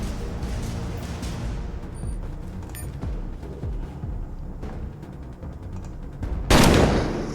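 Pistol shots fired in the video game Colony Ship, a string of sharp gunfire reports over a steady background mix, with a louder burst near the end.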